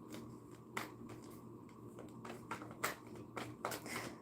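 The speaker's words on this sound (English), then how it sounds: "Mix my cards up." Tarot cards are shuffled quietly and close by, giving a series of soft, irregular flicks and riffles over faint background hum.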